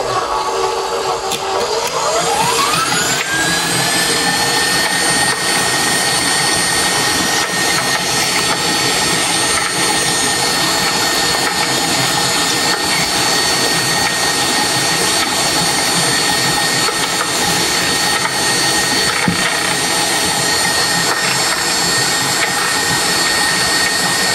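A refurbished KitchenAid 6-quart bowl-lift stand mixer runs at a loud, steady motor whine, its pitch rising quickly as it speeds up near the start and then holding level without a break.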